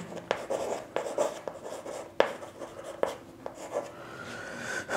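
Pen or chalk strokes writing numbers during a maths lesson, a run of soft scratching taps and short scrapes at close range, with no talk over them.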